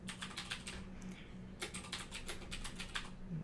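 Rapid, steady keystrokes on a computer keyboard while text is entered in the Nano editor on Linux, close and fairly quiet over a faint background hum.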